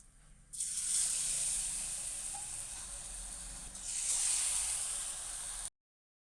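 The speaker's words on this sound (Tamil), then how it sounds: "இப்போ எண்ணெயில் நம்ம பொரிச்சு எடுத்துக்கலாம்" Battered egg pieces for egg chilli deep-fry in hot oil, giving a continuous bright hiss and crackle that swells again partway through before cutting off abruptly near the end.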